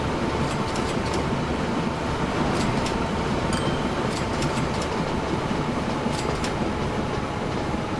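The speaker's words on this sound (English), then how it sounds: "New freight train, I guess." A freight train in the Train Fever video game rumbles steadily with a dense continuous roar and repeated light rail clicks, unbroken throughout.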